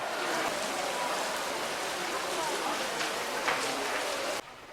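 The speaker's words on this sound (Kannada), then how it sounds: "ಬೆಳಗ್ಗೆ ಬೆಳಗ್ಗೆ ಹೆಪ್ಪಿಯಾಗಿ ಮಳೆ" Steady morning rain falls with a dense, even hiss throughout, close and continuous, dropping off slightly at the very end.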